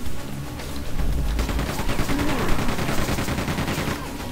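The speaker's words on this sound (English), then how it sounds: "Switch to the chain gun." The chain gun in Quake II fires a rapid, continuous stream of shots. The loud rattling barrage runs across the whole stretch with some booming impacts, and no speech is heard.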